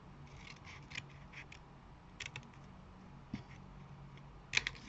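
Scissors snip through card paper while a fold-out flip-flap card is trimmed, a few sparse, quiet clicks spread out with a slightly sharper cut near the end over a faint room background.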